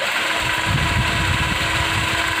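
A cordless drill motor used as a trolling motor whirs steadily at high speed, a constant buzzing drone with a low rumbling undertone throughout.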